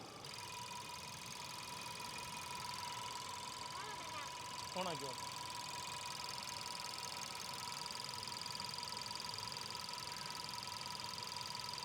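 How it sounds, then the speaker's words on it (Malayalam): A Volkswagen Polo GT 1.2 TSI engine idles with a steady, even hum and faint rattle throughout, while a voice briefly speaks over it partway through. "ഇതാണ് എഞ്ചിന്റെ സൗണ്ട്"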